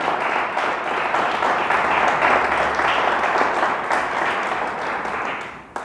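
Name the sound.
congregation applauding in church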